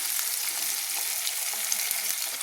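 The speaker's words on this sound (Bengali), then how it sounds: "এইভাবে আলুগুলো কিন্তু আমি একটু লাল লাল করে ভেজে নিচ্ছি।" Two potatoes, cut into strips, are frying in a pan for a vegetarian Bengali pui shak chochhori. A steady close-up sizzle carries on throughout with small crackles scattered through it.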